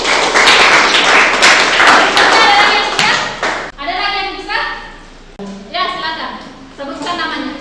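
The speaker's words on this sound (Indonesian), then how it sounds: "Oke, makasih. Tepuk tangan untuk" Classroom applause for a student in a basic statistics course, a few seconds of lively clapping and tapping that gives way to a person talking.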